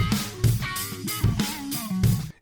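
A song plays as an intermission during a livestream, with short rhythmic bursts of music and vocal-like tones alternating with brief dips, fairly loud and close for a few seconds.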